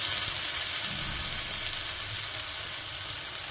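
Steady, loud sizzling of meatballs and peppers frying in a pan, continuous hiss with no pauses.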